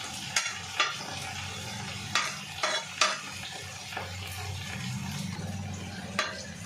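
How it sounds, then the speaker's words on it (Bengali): Cardamom pods, cloves and whole cumin seeds fry lightly in a pan with a soft sizzle, punctuated by several sharp clinks and scrapes as a utensil stirs against the metal. "4টে এলাচ, বেশ কিছুটা গোটা জিরে, এগুলো আমি ভেজে নেব।"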